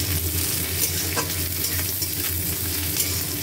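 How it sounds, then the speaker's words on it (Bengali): Capsicum frying with onions in a pan, a steady close sizzle and crackle with stirring scrapes throughout, no talking. "এবারে এটাকে একটু ভেজে নিই।"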